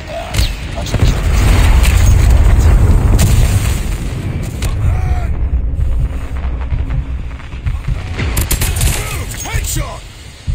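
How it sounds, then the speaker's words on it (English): Call of Duty Mobile ground war: deep airstrike and missile explosions rumble loudly, with crackling gunfire and an in-game announcer voice over the battle. "Friendly Predator missile inbound."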